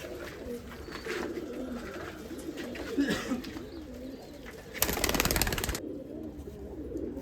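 Pigeons on a rooftop in Amritsar cooing in low, throaty murmurs at close range, joined by a short burst of wing flapping near the end, with faint background noise throughout.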